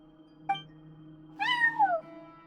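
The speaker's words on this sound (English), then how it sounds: "No one except for a cat watching over the front desk." A cat in the video game Genshin Impact gives a short chirp followed by a longer falling meow, close and clear over a faint steady hum.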